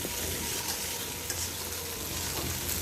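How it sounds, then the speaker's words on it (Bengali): Spice masala stir-fried in hot oil for a fish curry, a continuous close sizzle and crackle with light stirring scrapes, no voices. "আমি বারে বারে মশলাগুলোকে ভালো করে কষে নিলাম।"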